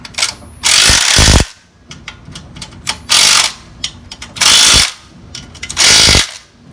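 Ratchet tightening bolts on a Honda-powered lawn mower: four loud bursts of rapid clicking, each about a second long and separated by pauses that hold quieter handling noises, close up with no talking.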